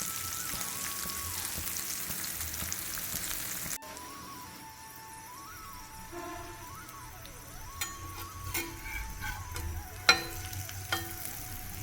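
Jackfruit bulbs fry on a tawa over a low flame, giving a faint, steady sizzle with a few soft crackles and light taps near the end.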